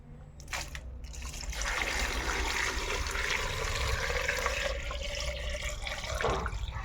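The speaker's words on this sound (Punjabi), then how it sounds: "ਹੁਣ ਆਪਾਂ ਇਹਦੇ ਵਿੱਚ ਪਾਣੀ ਪਾ ਦਵਾਂਗੇ" Water pours steadily into a container while mixing homemade organic fertilizer, a continuous splashing rush that starts after a brief pause and runs on close and fairly loud without any talking.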